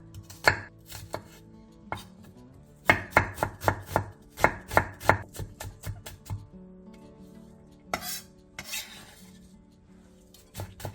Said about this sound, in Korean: 양파 2분의 1개에 화면처럼 칼집을 넣은 뒤 잘게 잘라주세요.